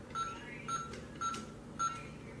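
A Minnie Mouse toy phone beeps four times in a steady rhythm as its buttons are pressed. The beeps are faint and close, with no talking.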